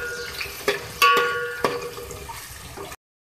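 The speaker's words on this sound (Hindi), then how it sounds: "मैं डालूँगी तेज़पत्ते, एक मेरे पास बदियान का फूल है, एक बड़ी इलायची है, 2 दालचीनी है, के साथ में प्याज ऐड कर रही हूँ 2 मीडियम साइज़ की। तो फ्राई करेंगे।" Two medium onions stirred into hot oil in a pan with bay leaves, star anise, black cardamom and cinnamon give a short, close sizzle with a few sharp clinks of the spoon before cutting off.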